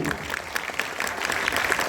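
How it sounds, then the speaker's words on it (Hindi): A gathered audience claps together in a room, a busy, even patter of many hands at fairly close range, with some faint murmuring underneath. "नेक्स्ट मास्टर की सेलिब्रेशन में तालियां होनी चाहिए, तालियां बताएगी आपकी।"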